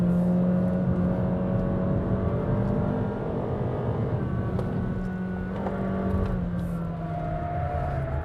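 A 2021 Honda City 1.5V with a DOHC engine driving up a mountain road and accelerating. Its steady engine drone rises and holds loud and close the whole time.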